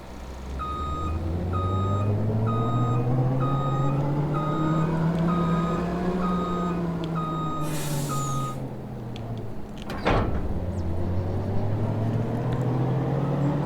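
A semi truck backs up to hook a trailer in Farming Simulator 25, its reversing alarm beeping steadily over a loud diesel engine, then an air-brake hiss bursts out and the engine settles into an idle.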